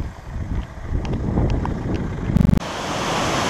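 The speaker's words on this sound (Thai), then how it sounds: "ก็ตรงนี้ก็เป็นน้ำตกที่เมือง ที่เราพักนะครับ" Waterfall in a town in North Wales, a steady broadband rush of falling water with wind buffeting the microphone and a brief sharp burst near the end.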